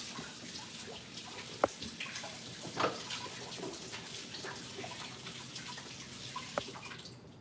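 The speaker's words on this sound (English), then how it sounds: "Let me wash my hands." Tap water runs steadily while hands are washed under it, a continuous close splashing with a few drips and knocks.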